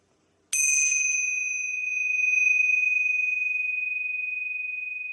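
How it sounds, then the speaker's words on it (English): Tingsha bells are struck once and give a bright, clear ring that hangs and fades slowly in a quiet room. "I will ring the tingsha bells to clear out any negative energy"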